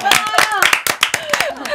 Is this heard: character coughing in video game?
no